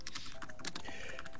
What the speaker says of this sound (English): You seem to be crunching something that sounds like typing.